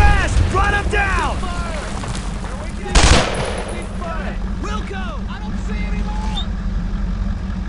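Gunfire in the World War II shooter Brothers in Arms: Road to Hill 30 rings out over a constant rumbling battlefield din, with one loud burst near the middle, while soldiers' voices shout.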